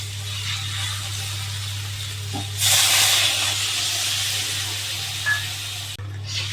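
Water poured onto frying vegetables coated in mustard-poppy paste sends up a sudden loud hiss of steam lasting under a second, over a constant low hum; the surrounding quiet stays steady.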